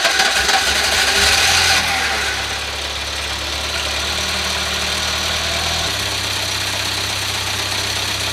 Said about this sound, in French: 3 petits coups d'accélérateur pour faire rentrer le jus et démarrage